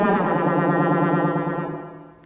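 A Haken Continuum synthesizer plays a sustained tone through a voice delay with fast modulation, giving a wobbling, warbling echo that slowly fades. No voices are heard.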